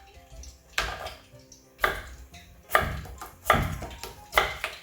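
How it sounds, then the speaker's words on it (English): A knife chopping through potatoes on a cutting board to make steak fries, five or six sharp, close thunks at a steady unhurried pace, with short quiet gaps between cuts and no talking. "We're going to cut our potatoes into like steak-sized fries."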